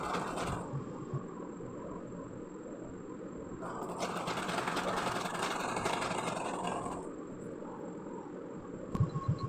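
A sewing machine stitches pajama pants with a continuous whirring drone. The drone rises to a louder, faster run in the middle, then settles back and ends with a few knocks.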